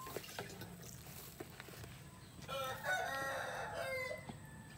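Shamo chickens kept on a Philippine farm cluck around a rooster that crows clearly partway through, over a steady outdoor background of low rumble and scattered clucks.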